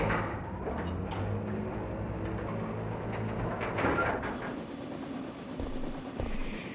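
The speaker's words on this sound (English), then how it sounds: "And get to the chopper!" Helicopter rotor chopping steadily and loudly through the whole stretch in the Resident Evil 3 video game, with a brighter, fuller engine whine kicking in near the end; no one speaks.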